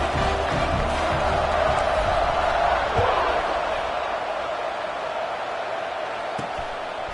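Steady roar of a stadium crowd in a college football video game, Indiana hosting UAB, sustained loud and dense around a kickoff, with a few sharp spikes and shouts rising from the broad wash of noise.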